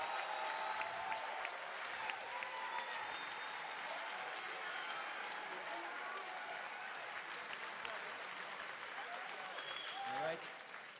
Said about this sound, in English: a special round of applause for the last possible game and the Blizzcon 2011 Grand Finals